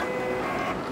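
Brief mechanical whir and clatter from a Palette 2S filament splicer cutting 3D printer filament, a single short burst heard close up with no talk.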